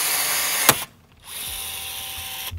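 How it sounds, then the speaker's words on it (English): A rivet gun sets rivets in the deadbolt of an Airstream trailer door, with a loud close-up whir, a sharp snap as the rivet sets, then a quieter whir and a second snap at the end. "We'll shoot the rivets in, and we'll give it a test."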